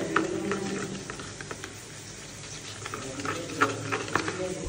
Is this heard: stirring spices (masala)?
yes